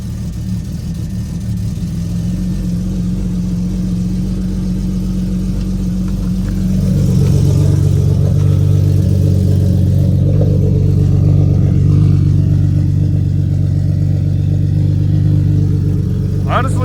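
A car engine, in a vehicle just fixed with a new alternator and spark plugs, drones loudly and close, then rises in pitch and load midway as the revs climb, with someone talking over it.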